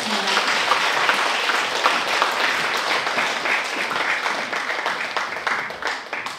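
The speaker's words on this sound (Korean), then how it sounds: "다시 한번 큰 박수 부탁드리겠습니다." Full, dense applause from the audience at a Korean traditional music (gugak) concert featuring haegeum. The clapping is steady and loud, then thins and tapers off toward the end.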